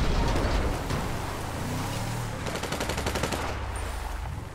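Bursts of rapid automatic gunfire ring out in GTA V Online, repeated rattling volleys that are loud and close over background game noise.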